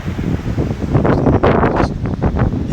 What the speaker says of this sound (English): You can hear the wind and everything here